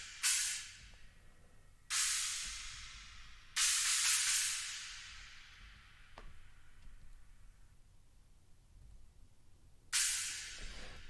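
A China cymbal sample is struck four times at uneven intervals, each crash bright and trashy and decaying over about a second and a half, faint and heard alone.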